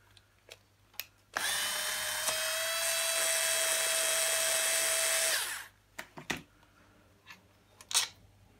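A power screwdriver backs out a 4mm screw in one sustained high whirring burst of about four seconds, with small handling clicks before and after.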